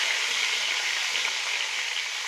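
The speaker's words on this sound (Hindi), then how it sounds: "इसको मैं 1 मिनट के लिए फ्राई करूँगी" Tomatoes, garlic and ginger fry for cabbage in a pan, giving a loud, dense, even sizzle that holds steady throughout with no talking.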